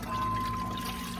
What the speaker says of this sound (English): I'm gonna go ahead and add my beef broth